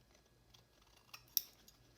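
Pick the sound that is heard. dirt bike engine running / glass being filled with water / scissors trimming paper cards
scissors trimming paper cards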